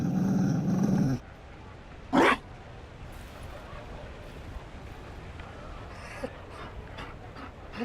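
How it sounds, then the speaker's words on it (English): Mabari war dog in the video game Dragon Age Inquisition, a loud burst of panting and low growling at the start, then a short sharp yelp or bark, fading into quiet ambient background with faint scattered noises. "You found a dog?"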